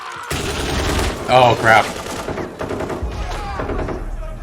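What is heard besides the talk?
explosions in a Stranger Things episode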